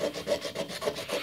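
Rhythmic back-and-forth rubbing of a plastic Jim Dunlop guitar pick on a whetstone, close and steady with a gritty scraping texture, no voices.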